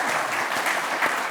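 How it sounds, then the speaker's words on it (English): Dense applause from an audience for a panel after a debate on ethics and AI in valuation, a loud continuous round of clapping throughout. "Can we give them a round of applause?"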